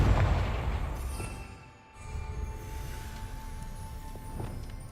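A Confringo fire spell blasts in Hogwarts Legacy on PC, with a heavy booming explosion at the start fading over a couple of seconds, followed by a steady rumbling game ambience with no talk.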